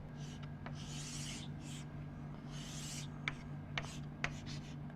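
Marker or pen scratching out a diagram on a board during an engineering lecture on transistors, a few rasping strokes and short taps, close and quiet over a steady electrical hum.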